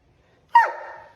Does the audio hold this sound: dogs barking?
yes